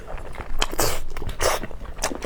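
Biting and chewing braised pork close up, a few wet crunchy bites and chews in quick succession, fairly loud, with no talking.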